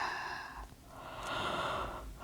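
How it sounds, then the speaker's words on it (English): A deep, steady exhale during a yoga class working toward wheel pose, a soft close breath with a slight pause midway, quiet and alone with no talk. "Deeper exhale."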